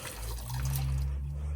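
Bacterial starter liquid pours from a bottle into a backyard pond converted from a swimming pool, a steady close trickle and splash with low hum underneath.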